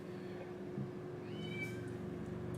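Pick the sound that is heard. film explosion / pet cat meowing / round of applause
pet cat meowing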